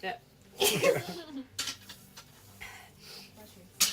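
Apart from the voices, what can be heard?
sneeze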